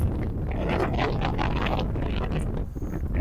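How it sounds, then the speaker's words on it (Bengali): Strong gusting wind roars across a launch ghat during Cyclone Remal, a loud, continuous buffeting rush close to the microphone with no voices. "প্রচুর বাতাস হচ্ছে।"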